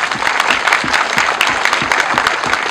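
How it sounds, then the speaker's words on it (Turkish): Applause from the crowd at the opening ceremony of a sports facility, dense sustained clapping from many hands, close and steady throughout with no talk over it. "bu güzel kardeşimize de bir alkış alalım"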